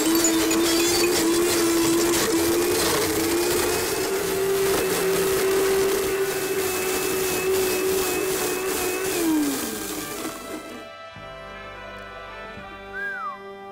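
A Blendtec Total Blender running at full power with a vuvuzela inside, giving a loud steady motor whine with a shifting grinding tone that drops off near the end, leaving quieter high tones.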